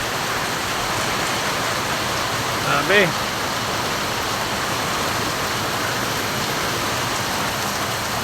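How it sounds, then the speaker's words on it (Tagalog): Strong typhoon wind and heavy rain roar steadily around a hut, a dense unbroken wash of noise, with a short exclamation from a man briefly heard over it. "Malakas ng hangin."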